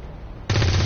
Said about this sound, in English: Okay, fire weapon.